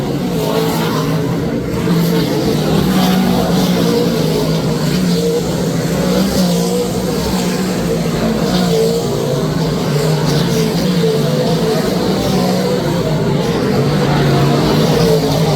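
Several race cars in the 63rd Eastern States 200 dive side by side into turn one, a loud, continuous engine roar with layered droning and no break in the noise.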